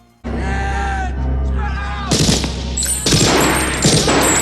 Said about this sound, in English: the man in black shows up, shooting up the entire police station